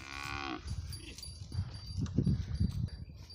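A thirsty cow lets out a short, close moo, followed by shuffling hooves and restless movement of cattle nearby.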